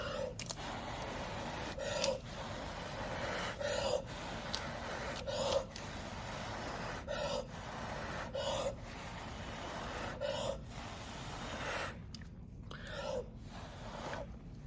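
Air is blown in repeated short puffs onto fluid acrylic paint, about eight soft breathy bursts at regular intervals over a faint background hiss, close to the microphone and quiet.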